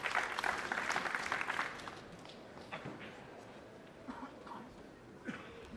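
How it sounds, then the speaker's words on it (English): A pool hall crowd at the 2006 World Pool Championship gives a polite round of applause, clapping steadily for about two seconds before fading to quiet room noise and scattered footsteps. "the crowd gives a nice, polite round of applause"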